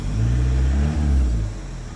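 A modern TDI diesel engine, converted from a Boxer, revs up from idle, rising to a strong, nearby surge and then easing back down to a steady idle hum.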